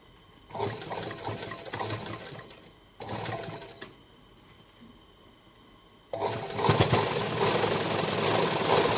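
A sewing machine stitches a lined katori blouse in three close bursts of rapid mechanical whirring, two short runs separated by quiet pauses, then a longer steady stretch to the end.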